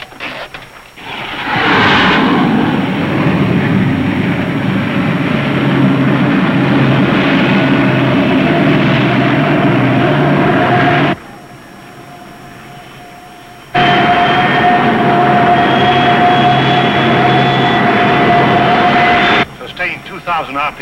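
Engine held at a sustained 2,000 RPM: a loud, steady droning roar with a constant whining tone, briefly cut away and then resuming, with voices speaking over it.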